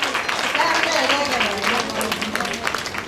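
Audience applause welcoming the writer Tamirisa Janaki onto the stage at the Amruthalatha Apuroopa Awards 2016, a steady wash of clapping from a crowd that holds for the full few seconds.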